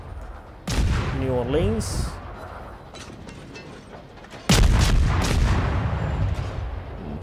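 Warship guns fire in a naval battle video game with heavy booming salvos that start suddenly and roll on with rumbling echoes. A voice speaks briefly over the first salvo.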